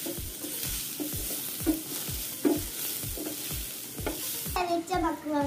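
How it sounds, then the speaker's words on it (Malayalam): Macaroni with pepper being stirred and sautéed in a hot pan, a steady sizzle of frying under repeated rhythmic scraping strokes of a spoon, close up, with no talking. "ഇനി നമുക്ക് നന്നായി വയറ്റി കൊടുക്കാം."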